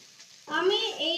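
Chinese-style Maggi noodles are stirred as they fry in a pan, a close sizzling that starts suddenly and stays steady to the end of the short moment.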